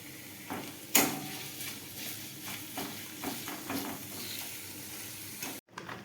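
Carrots fry in a pan over rising heat, giving a steady close sizzle with scattered stirring scrapes and one sharp clink near the start, no voices.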